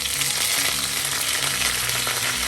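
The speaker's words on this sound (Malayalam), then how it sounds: "കടുക് പൊട്ടിക്കഴിയുമ്പോൾ നമുക്ക് 1 തണ്ട് കറിവേപ്പില ചേർക്കാം" A sprig of curry leaves hisses loudly in hot coconut oil with popped mustard seeds, a dense, continuous frying sizzle close up, steady throughout, with no talking.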